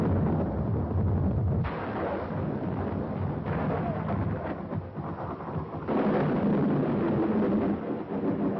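Heavy thunder rolls and rumbles through a storm, a loud continuous booming with surges and crashes, accompanied by rain, with no voices.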